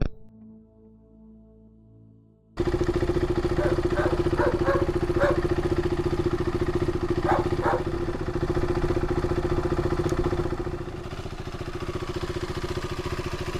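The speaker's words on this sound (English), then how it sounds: "we will start the bike to check the lights" A KTM RC motorcycle engine fires up after a quiet moment and settles into a loud, steady, close idle with a constant mechanical rumble that continues throughout.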